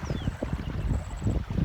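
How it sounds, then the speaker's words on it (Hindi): Wind gusting across rice paddies in a Kumaon valley near Nainital, a steady rushing roar with microphone buffeting, fairly loud and continuous with no voices. "जो हवा चल रही है तो इस तरीके से देखिए धान उड़ रहे हैं"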